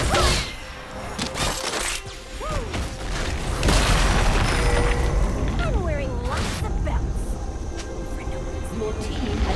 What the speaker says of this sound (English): Your team has destroyed a turret.